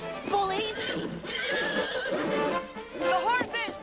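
Horses whinny loudly several times in shrill rising and falling calls, with hooves clip-clopping beneath and voices shouting over the commotion.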